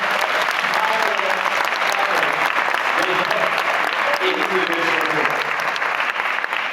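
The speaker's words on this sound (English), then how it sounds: "I want to just offer a round of applause, if I can ask for it, for all of the lead authors on the special report" A conference audience at the UN-Habitat headquarters in Nairobi applauds the lead authors of a special report, loud continuous clapping with scattered cheers and voices mixed in throughout.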